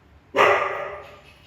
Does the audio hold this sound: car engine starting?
no